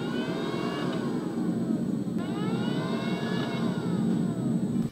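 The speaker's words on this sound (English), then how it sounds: "you can hear the fan kicking off" Cooling fan on a GotWay MCM5 electric unicycle runs as a steady, close whir, with tones sweeping upward and overlapping throughout.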